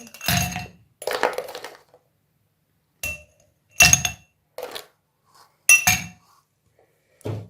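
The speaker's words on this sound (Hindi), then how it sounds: "इसके अंदर मैं थोड़ी सी बर्फ़ ऐड करती हूँ" Ice cubes dropped into two drinking glasses for a summer sugar sharbat, a series of sharp close clinks and rattles in separate bursts with brief silences between them.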